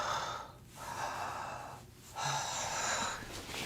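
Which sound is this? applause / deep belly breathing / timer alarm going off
deep belly breathing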